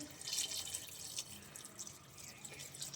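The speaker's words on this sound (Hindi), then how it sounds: "अब इसमें 2 कप हम लोग पानी के डालेंगे।" Two cups of water are poured into a simmering kofta gravy, a faint continuous splashing and trickling with soft hissing.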